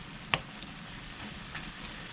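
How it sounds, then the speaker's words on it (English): Boneless pork loin chops saute in a pan with a soft, steady sizzle and a few sharp pops, one especially crisp near the start. "I've got the pork loin boneless chops sauteing."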